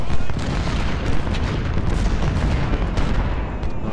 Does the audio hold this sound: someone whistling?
no